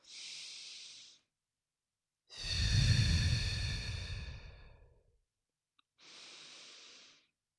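Slow, deliberate breathing during a paced five-in, five-out exercise. Close, breathy exhales and inhales are separated by silences, with one long, heavy breath in the middle.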